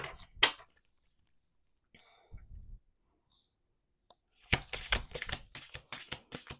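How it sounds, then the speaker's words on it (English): Tarot or oracle cards are handled quietly, with a soft flick early on, sparse taps and rustles, then a burst of rapid riffling shuffles near the end, close and intimate. "Let's do one more shuffle."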